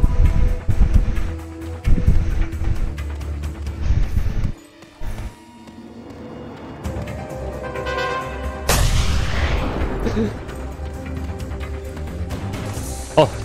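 Sniper rifle shots in Just Cause 2 ring out in loud, sharp reports, a few booming cracks early on, then a wind-like rushing and engine drone with a voice speaking briefly.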